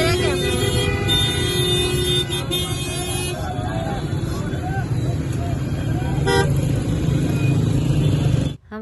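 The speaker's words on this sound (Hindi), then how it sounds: "यहाँ पे मैं आपको बताती हूँ कि क्या हाल हो रहा है यहाँ पे ट्रैफिक का।" Busy street traffic in Multan streams past steadily, with car engines, motorcycles and repeated horn toots and honks sounding close and loud, and voices talking over the din.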